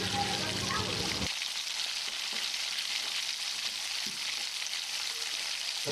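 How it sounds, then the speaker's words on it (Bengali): Continuous hissing sizzle of elephant apple (chalta) pieces frying in spiced oil on high flame, steady and close, with occasional soft scraping of stirring. "তখন চালতাগুলো দিয়ে হাই ফ্লেমে কিন্তু একটু ভালো করে মিশিয়ে নিতে হবে"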